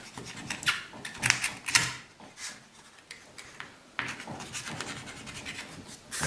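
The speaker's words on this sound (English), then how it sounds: "you just take a flat blade and you cut it to length" A flat blade slices through a rubber wiper blade insert to trim it to length, giving a series of short, close scratching strokes with brief pauses between them.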